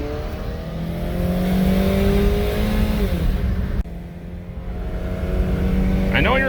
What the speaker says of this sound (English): Why are you revving out so far